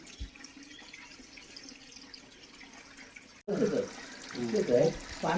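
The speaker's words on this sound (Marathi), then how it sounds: "गोमुखातून पाणी येत आहे" Water flowing from a cow-mouth spout at a holy spring shrine, a steady soft splashing stream; after a few seconds a voice speaks over it, loud and close.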